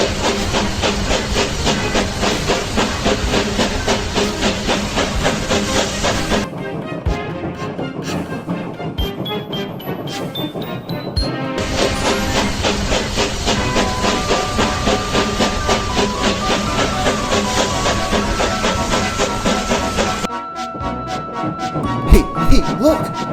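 A steam locomotive in an animated cartoon hisses loudly and continuously, a broad roaring rush that drops away briefly twice, with mechanical clanks and a louder thump near the end.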